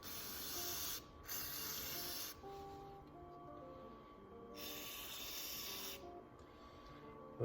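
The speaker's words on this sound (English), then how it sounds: "gonna spray this down the screen." Cleaner sprays in two long hissing bursts onto the oil screen of a Polaris Ranger 150 during an oil change, close and fairly quiet, with a steady tonal hum beneath and pauses between bursts.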